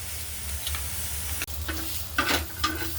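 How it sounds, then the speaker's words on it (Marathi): Onion roasting on a hot griddle gives a soft, steady sizzle with a few scraping stirs and a sharp click midway, quiet and close with no talking. "तर आता या तव्यावर मी कांदा भाजून घेते"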